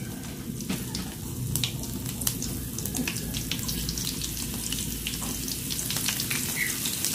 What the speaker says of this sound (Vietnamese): Giờ mình sẽ thả qua chuối cho mình chiên nha.